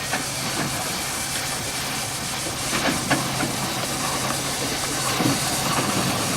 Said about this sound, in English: Dorman's Gallopers with the original steam engine to drive them, and Gavioli organ.